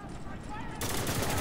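Heavy gunfire in the video game Spec Ops: The Line: a loud, dense burst of automatic fire that kicks in partway through, over a low rumbling battle bed with voices.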